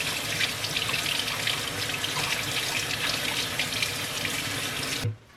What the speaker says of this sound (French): le filtre, il n'y a pas grand chose à faire, il suffit de le passer sous l'eau